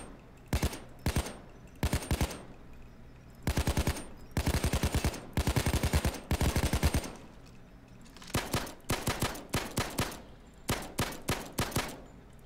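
Automatic weapons firing in the shooter game Payday 2, loud close bursts of rapid shots in short and longer strings separated by brief pauses, with no voices.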